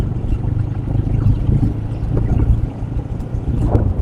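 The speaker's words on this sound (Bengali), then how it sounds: "এই যে এখান থেকে মনে হয় সব বোটে টোটে করে যায় মাছ টাছ ধরার জন্য।" A fishing boat heads out from Bodorkhali jetty between Chakaria and Maheshkhali. Its engine gives a steady low drone under gusty wind noise, with no one talking.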